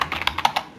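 Several crisp computer keyboard keystrokes, including a Shift+A press, clicking close and fairly loud in a quick uneven run with no voice over them.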